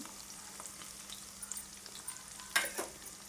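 Onions sauté in a pan with a soft, even sizzle and a few light scrapes of stirring, ending in a sharper clatter near the end.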